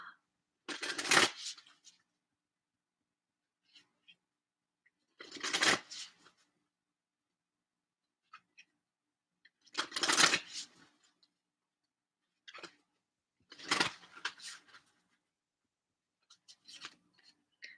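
A Voice of the Souls oracle card deck is shuffled in a few short, quiet riffling bursts spaced several seconds apart, close up, with near silence between them.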